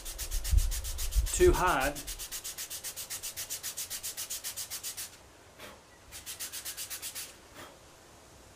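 Plywood is sanded by hand in steady, rhythmic back-and-forth strokes, close and clear, pausing briefly before resuming. A short bit of speech and handling noise come at the start.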